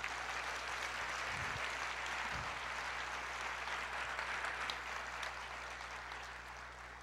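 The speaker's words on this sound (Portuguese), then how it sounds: "Você pode aplaudir o Senhor?" Congregation at a Portuguese-language church service applauds in a steady, distant wash of clapping that holds for several seconds and slowly tapers, with a low hum underneath.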